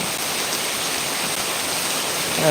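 Heavy monsoon rain pours down in a steady, dense hiss that holds at an even level throughout, with no distinct thunderclap standing out.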